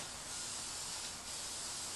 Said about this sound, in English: If you spray it too heavy at one time, it'll run on you because it's kind of thin.